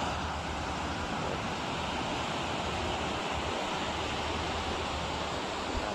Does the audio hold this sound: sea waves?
yes